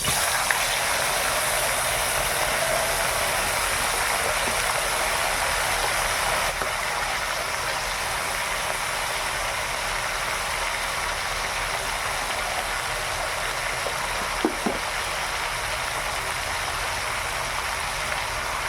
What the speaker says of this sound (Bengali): তেল গরম হয়ে গেছে, এবার মাংসটা দিয়ে দিলাম।